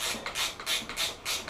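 A Tubliss motorcycle tire fitting is tightened, producing a series of rhythmic ratcheting clicks and scraping mechanical strokes, about five close bursts in quick succession, with no talk.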